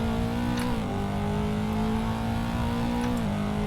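A 110-litre V8 supercar engine pulls hard uphill past a flint wall, a steady loud drone with sustained high revs and a brief dip in pitch as it shifts, close and continuous throughout.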